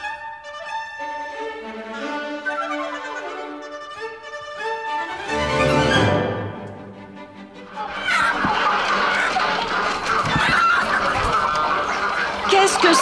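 Poultry clucking and crowing fills a French radio drama scene, starting with pitched, squawking calls, then swelling into a dense, noisy barnyard clamour. Voices are heard through parts of it.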